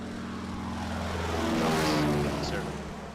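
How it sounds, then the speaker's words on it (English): A small propeller plane in a game drones overhead, its engine building to a loud peak midway and then fading, with a voice talking faintly beneath. "That's a very small plane to be dropping a crate this big"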